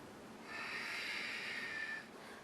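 A single long, deep breath taken through the nose while holding a peaceful warrior yoga pose, a close, soft airy rush of about a second and a half rising out of a quiet room with no talking.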